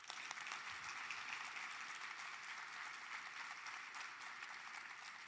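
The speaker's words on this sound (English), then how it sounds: "We can clap for that." Audience applause at the Henrico State of the County address, a steady, dense wash of many hands clapping that holds evenly for several seconds.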